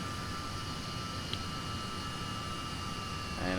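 Steady, moderately faint jet engine roar from a De Havilland Comet 4C in FSX, spooling up before takeoff, with a continuous whine and a slight rise in loudness at the end.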